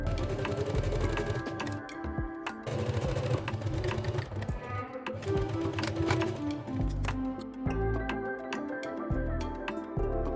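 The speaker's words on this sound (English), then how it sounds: "Stitch the folds in place on the sewing machine." A sewing machine stitches in rapid bursts with mechanical clatter and whirring, starting and stopping repeatedly, close up.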